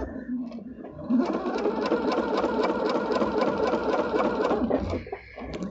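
A sewing machine stitches through layers of quilt fabric in short bursts of a few stitches, a rapid mechanical rattle close by that runs steadily for several seconds before stopping.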